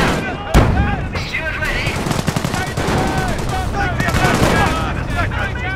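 British 25-pounder artillery fires in the Company of Heroes World War II game during the Hill 112 battle near Caen: one sharp booming shot followed by a dense, continuous rattle of gunfire and battle noise, with voices calling out.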